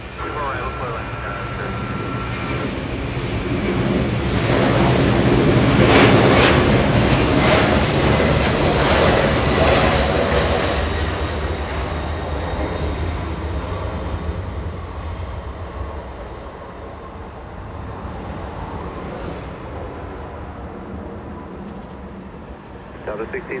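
Delta Airbus A321 arriving from Atlanta and landing on runway 24 right at Los Angeles International Airport; a loud jet roar swells to a peak and then slowly fades, with radio talk over it.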